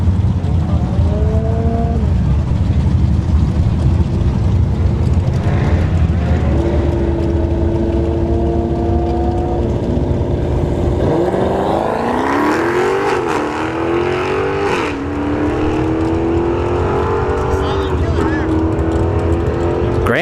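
A Grand National drag car launches at wide open throttle at a test-and-tune dragstrip, its engine roaring loud and rising steadily through the gears as it accelerates away, with a commentator talking over the noise.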